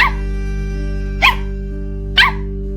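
A foreign-breed dog lets out two sharp barks about a second apart, clear and close, over a steady low hum indoors.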